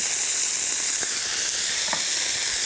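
Minced garlic hits hot olive oil in a pan, giving a steady, close, bright sizzling hiss with a few small crackles and no voices.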